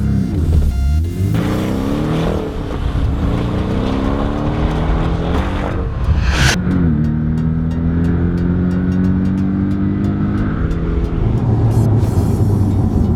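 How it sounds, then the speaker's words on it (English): A Porsche 718 Boxster S accelerates hard from 0 to 200 km/h on an airfield straight, its engine note climbing loud and steady through several gears, with a brief break at each shift before it rises again. "we're gonna see how fast this car will go from 0 to 200 kilometers an hour"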